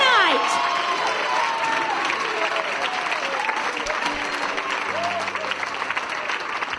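A church congregation claps and shouts in praise, dense applause starting loud and tapering slightly, with raised voices and whoops mixed through the clapping.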